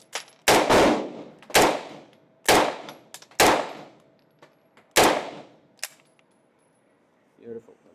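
Gunshots fired at targets on an indoor shooting range in Krakow, Poland: six loud sharp reports in an uneven sequence with short gaps, each with a ringing decay, followed by a fainter sharp crack and a brief low rumble at the end.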